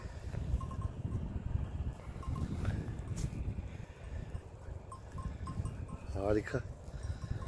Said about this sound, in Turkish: Koyunlar çayırda, çimende.